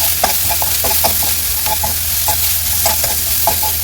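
Spices, cumin powder and salt sautéing in hot oil for a potato curry, a steady sizzle with repeated spatula scrapes and stirs against the pan, close and alone.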